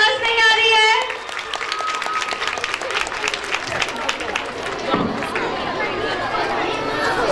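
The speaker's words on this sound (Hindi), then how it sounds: "अगर मैं अपने रिस्पेक्टेड प्रिंसिपल मैम और सर के लिए बोलूं तो जोरदार तालियां हो जाए उनके लिए।" An audience claps and chatters at a school annual results ceremony, a dense wash of applause that thins into scattered claps and crowd murmur, with a voice speaking briefly at the start.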